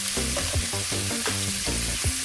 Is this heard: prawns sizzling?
yes